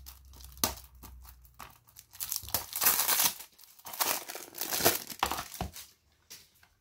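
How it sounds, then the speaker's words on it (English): Plastic wrap being crinkled and torn off a PS5 game case, a close, irregular run of crackling and tearing bursts that swell and fade in several loud waves, with no talking. "Let's unwrap this before we continue."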